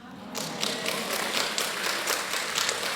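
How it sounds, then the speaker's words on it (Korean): A church congregation claps during a sermon, a dense and steady patter of many hands that starts abruptly and holds at a moderate, slightly distant level throughout. "여러분, 박수 칠라면 치시고 말라면 치시고요"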